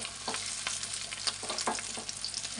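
Fish roe fritters frying in oil in a black wok, a steady close sizzle with occasional stirring scrapes and bursts, no voices.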